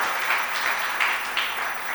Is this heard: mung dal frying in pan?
no